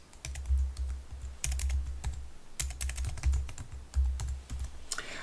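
Someone types a brand name on a computer keyboard, close and clear, in several quick bursts of clattering keystrokes separated by short pauses.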